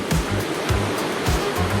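Sea waves about one meter high around a Joysway Fishing Surfer 3251V2 RC fishing boat running at full power: loud continuous rushing surf with rhythmic low thumps as the hull slaps through the swell.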